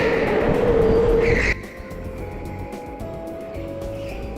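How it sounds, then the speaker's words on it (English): A go-kart drifts on an indoor track, its tyres giving a loud, sustained squeal for about a second and a half over steady engine noise, which then carries on at a lower, even level. "my friend in front takes this as an opportunity to start drifting everywhere"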